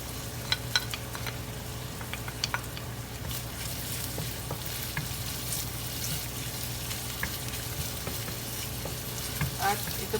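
Garlic sizzles steadily in a hot pan for a Filipino shrimp and vegetable stir fry, a continuous close frying hiss with scattered crackles and pops, with no talking.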